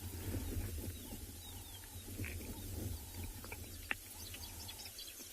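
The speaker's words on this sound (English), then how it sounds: "Cape turtle doves in the background there." Cape turtle doves call faintly in the background on an evening safari, soft repeated coos over a low outdoor hum with scattered chirps and one sharp click.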